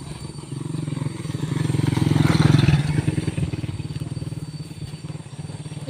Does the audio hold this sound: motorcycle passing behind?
yes